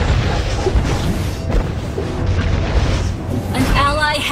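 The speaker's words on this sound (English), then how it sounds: "Destroyed a turret!" A turret is destroyed in a Mobile Legends match: a loud crashing boom with debris crunches and swooshes, mixed with game sound effects and announcer-style voice lines.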